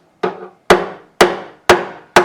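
A fret mallet's metal face knocks a raised fret into an acoustic guitar fingerboard during a setup; five sharp, evenly spaced taps ring briefly, close and clear with no talking.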